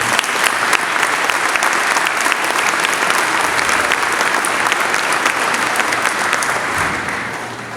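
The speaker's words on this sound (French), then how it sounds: "On peut les applaudir peut-être une nouvelle fois." An indoor audience at a town mayor's New Year greetings ceremony in Fontoy gives sustained applause, a dense, even wash of many hands clapping that holds for several seconds before tapering off at the end.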